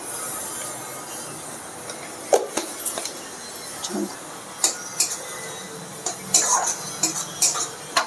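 Chicken stir-fried with coriander and cumin powder in a pan: a soft background sizzle broken by repeated clinks and scrapes of a spatula against metal, close and irregular.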